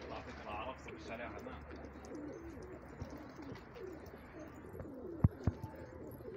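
Soft, low cooing from pigeons murmurs in the background, faint and repeated, with people talking quietly nearby and a couple of sharp knocks.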